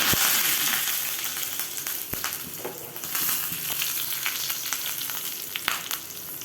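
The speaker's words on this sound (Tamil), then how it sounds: "பெருங்காயம் கொஞ்சம் ஆட் பண்ணிக்கிறேன் கடுகு கொஞ்சம் கருவேப்பிலை கொஞ்சம்" Mustard seeds, curry leaves and asafoetida tempering in hot oil, a steady loud sizzle with sharp crackling pops scattered throughout, no talking.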